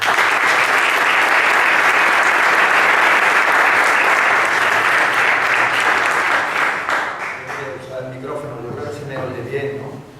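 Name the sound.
audience applause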